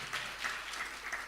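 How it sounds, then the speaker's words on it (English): Brief clapping from listeners at a spiritual talk, a soft, diffuse patter of hands lasting just over a second with no voices. "Somebody was clapping. Everyone clap?"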